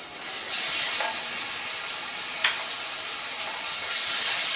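Lightly browned onion fries with ginger-garlic paste in a pan for an aloo chicken keema dish, giving a loud, continuous sizzling hiss with a brief sharp clack partway through.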